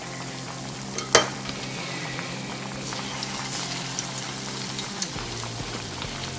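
Bread pizza pockets fry in oil in a pan, giving a steady, close sizzling and bubbling with a sharp clink near the start and small pops scattered throughout.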